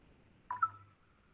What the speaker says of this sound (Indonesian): Sebentar saya telepon Pak Rudi sebentar.